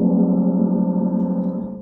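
A gong struck dead with a mallet, without first being set ringing, gives a steady, close metallic tone with stacked low overtones. It holds evenly for under two seconds with no voices.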